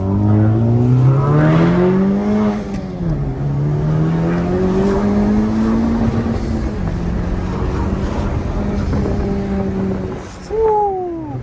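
A Toyota Supra and a Honda Civic Type R drive; an engine revs and accelerates up through the gears, pitch rising and dropping with each shift, loud and close from inside the car.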